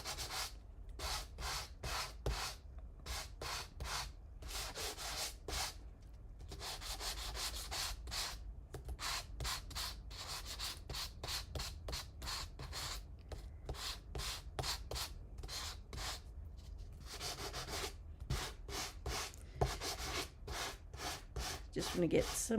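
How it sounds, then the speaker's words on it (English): Sandpaper rubbing over painted holly berries and white specks, fast rhythmic back-and-forth sanding strokes, close and continuous, with brief pauses between bursts. "the berries and the white specks are the main parts that I want to sand"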